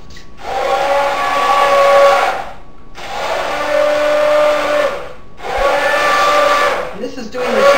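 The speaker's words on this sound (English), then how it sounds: "we're going to take our immersion blender and we're going to blend up all these vegetables." An immersion blender whirs in three long bursts in a pan of vegetables for poblano soup, separated by short pauses, steady and close, with the motor pitch holding even while it blends.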